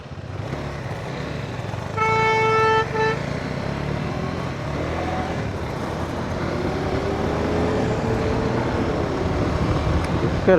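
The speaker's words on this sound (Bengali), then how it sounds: "হর্ন দেয়া একটা স্বভাব হয়ে গেছে।" Road traffic during a long ride toward a jammed Farakka bridge: one clear horn blast of about a second stands out over a continuous rumble of engines and passing vehicles, fairly loud and close.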